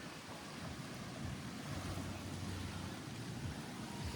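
Waves wash steadily onto a beach in front of seaside accommodation on Savai'i, Samoa, a constant surf roar mixed with wind buffeting the microphone.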